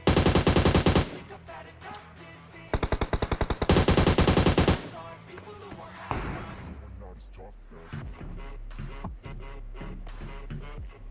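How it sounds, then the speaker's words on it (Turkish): Gunfire in PUBG Mobile, including an M24 sniper rifle, comes as loud dense bursts of rapid shots in two strong volleys, followed by scattered single impacts and thuds under continuous game sound. "sıkıyor bana sıkıyor. M24 dönüyor bana."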